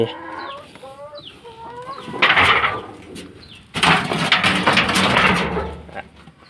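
Egg-laying hens on a backyard farm cluck and squawk close by in repeated bursts, with busier flurries of noisy cackling in the second half.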